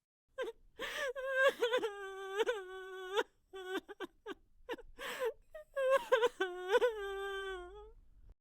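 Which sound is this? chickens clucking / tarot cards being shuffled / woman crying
woman crying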